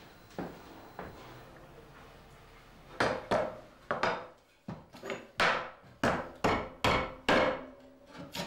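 Metal utensil pieces hammered by hand in a Samarkand artisan workshop in Uzbekistan: sharp ringing blows, sparse at first, then a steady rhythm of about one strike per half second, close and loud with no talk.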